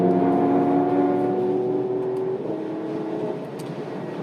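A Mercedes-AMG CLS 53 4Matic+ in Sport Plus mode accelerates to pass, its engine giving a strong, rising whir heard from inside the cabin before easing slightly toward the end.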